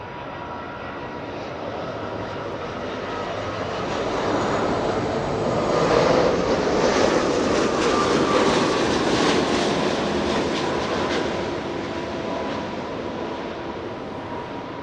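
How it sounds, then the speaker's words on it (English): Airbus A330 arriving at Los Angeles International Airport from Seoul, a continuous jet roar that swells toward the middle and then eases off, moderately distant and steady. "Joshua panning a camera to the arriving A330 coming in from Seoul"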